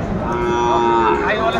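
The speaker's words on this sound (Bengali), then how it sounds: "শাহিওয়ালের ষাঁড় বাচ্চা আমরা দেখছিলাম এখানে" A Sahiwal bull calf gives a single drawn-out, droning moo from close by, heard alone in a livestock market.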